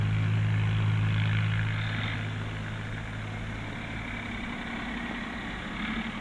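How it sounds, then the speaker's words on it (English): Ford Dexter 2000 three-cylinder short-stroke, big-bore tractor engine running steadily, a low throbbing hum with a strong tone that fades a little after the first seconds. "the engine of the Dexter 2000. 3 cylinders, Britain's first short-stroke, big-bore tractor engine."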